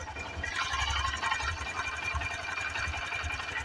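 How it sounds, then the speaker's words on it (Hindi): Honda SP125 BS6 motorcycle engine settling into a steady normal idle once its automatic choke switches off, a close, even, fast low putter with a light mechanical ticking over it, continuous and unbroken without speech. "अब देखो नॉर्मल आइडल पे आ गया है"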